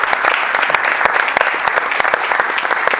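A studio audience on an Italian Sunday sports programme breaks into steady applause, a dense continuous patter of clapping with crisp individual hand claps standing out.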